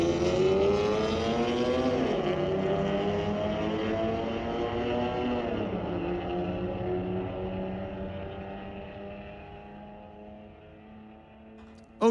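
A 2019 Chrysler and a 2002 Silverado drag race at Mission Raceway Park, their loud engines climbing in pitch through gear shifts, then fading gradually into the distance.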